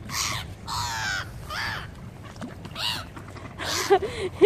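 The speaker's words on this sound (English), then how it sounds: "You chase the seagulls away." Seagulls calling outdoors, several harsh, repeated squawks close by in uneven bursts, with a brief voice in the background.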